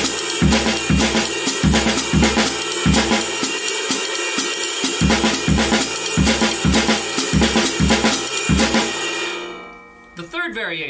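Drum kit plays a repeating fill with a bass drum eighth note placed before two eighths, punchy kick and cymbal hits in steady loud patterns before cymbals wash out near the end.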